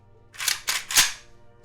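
A Vepr 12 shotgun's action being worked to clear it, giving three sharp metallic clacks in quick succession, close and crisp.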